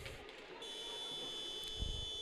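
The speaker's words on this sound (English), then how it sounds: "And the buzzer goes." A buzzer sounds at an ice hockey game during a charity all-stars finals match, a sustained electronic tone ringing over the distant arena noise.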